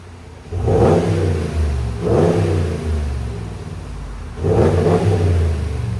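A 2022 RAM 5.7L V8 pickup with a Magnaflow muffler and stock resonators revs hard three times, each burst rising to a throaty roar and then falling back to a rumbling idle, close by.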